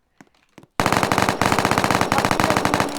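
Rapid automatic gunfire in a Roblox PUBG-style shooter game, a loud continuous burst of evenly spaced shots after a brief quiet pause with a couple of faint clicks.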